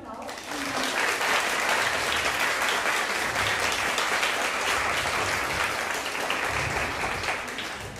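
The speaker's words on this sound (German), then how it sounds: "Und einen riesen Applaus." A large audience at a university lecture applauds steadily and loudly for several seconds, a dense, sustained wash of clapping with no break.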